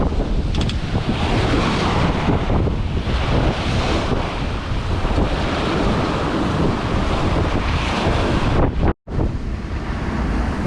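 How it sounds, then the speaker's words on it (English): Strong gusting wind roars across the microphone on a small reefed sailboat at sea, a dense continuous rush with the wash of waves beneath, loud and unbroken except for one brief dropout near the end. "Wind, there's quite a bit of wind"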